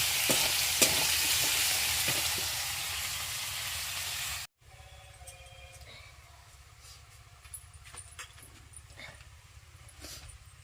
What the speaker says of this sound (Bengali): এই যে মাছের ঝোলটা করব পেঁয়াজ লঙ্কা টমেটো রসুন দিয়ে দিয়েছি